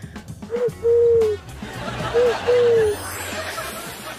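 A person imitates an owl, two hooting calls each of a short note and a longer one, over background chatter and room noise.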